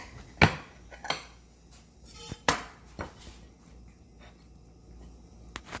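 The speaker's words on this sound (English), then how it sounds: "I'm going to cut it in half." A knife cuts through a smoked bologna and cheese sandwich, leaving a few sharp clacks against a board and soft crunches spaced over several seconds, fairly close and quiet, with no speech.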